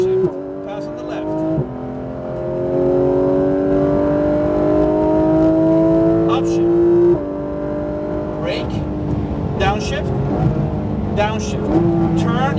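Porsche GT3 RS engine revving hard on a race track, pitch climbing through gears with sharp breaks at upshifts, loud and close, with a driving instructor's voice heard over it at times.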